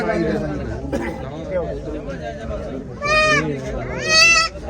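A goat bleats twice near the end, loud and wavering, after a stretch of people talking and chattering nearby during a sale.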